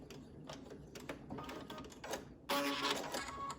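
A sewing machine running a reinforced stitch, quiet rapid mechanical ticking in short bursts, then a louder steady run toward the end.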